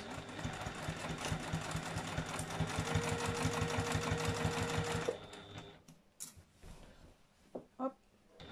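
A sewing machine runs steadily for about five seconds, its needle producing a fast, even rhythmic clatter while stitching a chair cover seam, then stops, leaving a few faint handling clicks.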